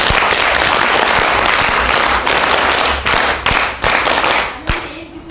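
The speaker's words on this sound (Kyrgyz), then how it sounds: "Келиңиздер, биринчи кол чабып коелу." An audience claps steadily for about five seconds at a gathering presenting a national girls' organization, the dense, loud applause broken by a few sharper individual claps before it thins out at the end.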